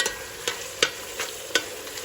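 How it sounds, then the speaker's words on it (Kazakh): Meat and tomato being stirred in a pan while cooking nan kuyrdak, with sharp spatula scrapes and knocks about every third of a second over a steady low sizzle of frying, close and fairly quiet. "Осылай сәл 5 минут қуырып аламыз"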